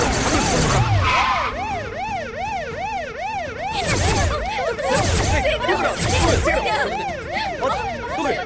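A loud ambulance siren wails, cycling rapidly up and down, continuous and close, with the vehicle's engine rumble beneath.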